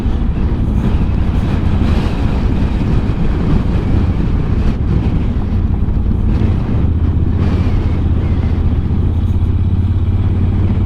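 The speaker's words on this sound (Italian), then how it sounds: "Sono un po' di motociclisti" Motorcycles in a group ride past a roadside fuel station, a continuous loud engine roar with wind buffeting throughout and a steady low drone settling in toward the end.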